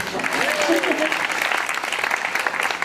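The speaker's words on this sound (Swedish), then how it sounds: "Nu kan jag applådera" Applause rises in a steady, even wash of many hands clapping throughout, with a voice briefly audible over it.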